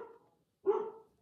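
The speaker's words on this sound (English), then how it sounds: "that's my dog in the background." A single dog barks once in the background, a short muffled woof, fairly faint and isolated after a brief trailing sound.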